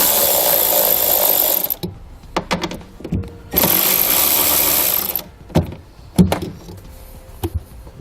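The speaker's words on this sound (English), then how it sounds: "So we can grab an 8mm socket and pull those 2 nuts out." Ratcheting 8mm socket backs out the two taillight nuts on a 2015 BMW X5, loud bursts of rapid clicking broken by short pauses and faint ticks.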